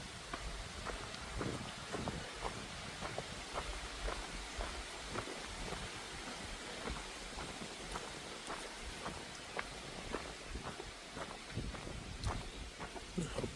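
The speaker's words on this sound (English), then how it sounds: "I hope this wind keeps up all day" Steady wind blows across an open mountain stretch of the Appalachian Trail in North Carolina, a constant rushing hiss close to the microphone with scattered faint ticks and taps, no voices.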